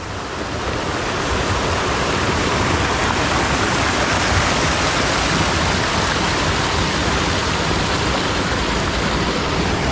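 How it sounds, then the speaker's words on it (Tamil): A steady, loud rush of flowing water fills the whole stretch as a dense, continuous roar near a bathing spot in Kanniyakumari, with no pauses and no voices. "அங்கங்கே வந்து பார்த்திங்கன்னா தண்ணி ஓடிட்டு இருக்கு"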